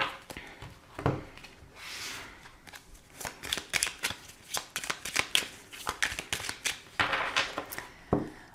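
A deck of tarot cards is shuffled and cut during a reading, giving repeated crisp riffling bursts and soft slaps at close range, with pauses between them and no speech.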